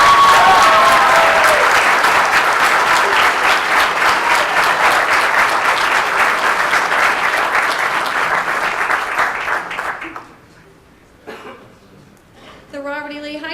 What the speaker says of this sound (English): and we can give you a round of applause.